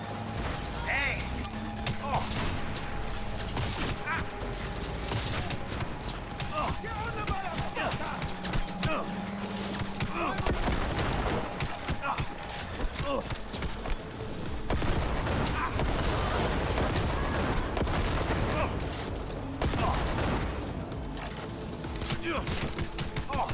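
Gunfire from the Cyberpunk 2077 video game crackles in scattered bursts and volleys throughout, mixed with game effects and voices talking over the action.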